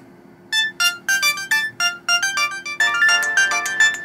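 The ringtone plays from an LG GS155 mobile phone: a bright, bouncy melody of short synthetic notes that steadily fills out, close and clear, with no talking.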